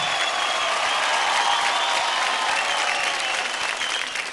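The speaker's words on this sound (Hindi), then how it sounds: "जोरदार ताली हो जाए रॉपचिक पंटर्स के लिए" Steady, dense audience applause at a kids' dance competition show after a performance, loud and continuous throughout with a full crowd clapping and no break.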